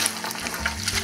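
Ingredients are sautéed in a frying pan, in oil and fat left from frying beef loin fillets. There is a brief, continuous close sizzle with faint spatters and no voices.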